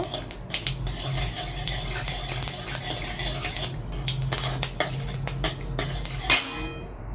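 Panch phoron spices stirred in hot oil in a pan for pumpkin chhokka, with scattered metal clinks of a spoon against the pan over a steady low sizzle, close and moderately loud.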